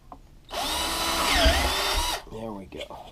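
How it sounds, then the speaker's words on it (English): A power drill bores a hole in a Kydex sheath: one close, loud whirring burst of under two seconds whose pitch dips and recovers under load, then stops, leaving quiet handling noise. "That's the hole I have to drill."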